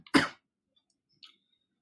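A single short, sharp cough close to the microphone, followed by a faint small sound and then silence.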